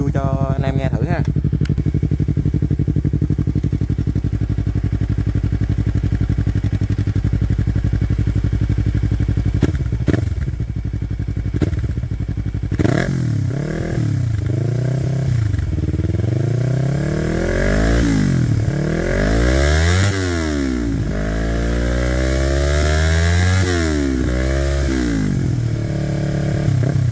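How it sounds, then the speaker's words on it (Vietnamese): Motorcycle fitted with an Akrapovic R3 full-system exhaust with its silencer installed: a low idle rumble at first, then loud, close repeated throttle revs rising and falling with a deep, throaty tone. "Tí mình gắn cái tiêu cho anh em nghe thử ha."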